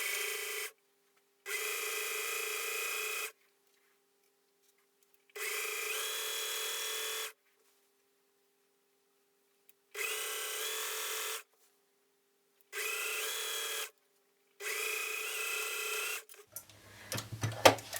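Sewing machine stitching the side seam of a lined skirt in six separate bursts of steady mechanical whirring, each lasting one to two seconds, with short silent pauses between them, ending in some handling clatter.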